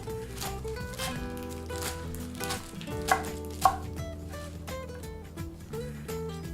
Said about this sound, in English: Okay, we're just going to keep chopping